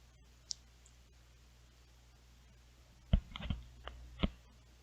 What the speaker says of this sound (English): You can double click it or click it once, whatever.